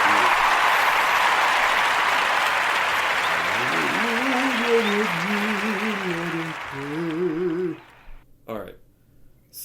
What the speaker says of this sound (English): I'll give you 11 seconds of applause and cheers